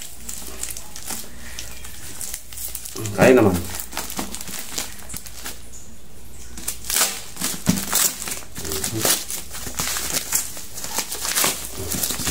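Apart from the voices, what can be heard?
package wrapping being torn open by hand without scissors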